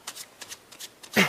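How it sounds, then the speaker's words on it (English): A pile of playing cards being shuffled in short bursts of riffling and flicking, close and crisp, ending in a louder final riffle. "Take the one that's left and shuffle it,"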